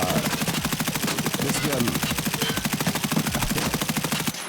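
An M4 rifle in Escape from Tarkov fires on full auto, a loud, rapid, evenly spaced stream of shots running without pause for over four seconds before cutting off.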